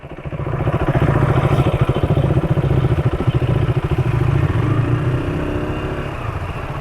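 A KTM RC 390 motorcycle engine runs steadily close by, its rapid, even pulsing firing note loud and continuous under gusting wind, easing slightly toward the end.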